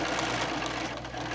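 A sewing machine running a regular straight stitch at 2.5 stitch length along a quarter-inch line on quilted fabric, a steady fast continuous whir with rapid needle clatter, close and even throughout.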